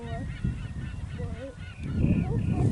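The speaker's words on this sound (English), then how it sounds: "The seagulls are laughing." Gulls give a rising and falling chorus of repeated calls over steady wind noise at Spiral Jetty, heard at mid-distance and carrying on without pause.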